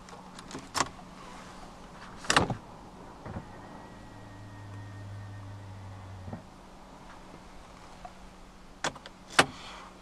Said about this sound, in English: upon locking the car, the side mirrors automatically folds in again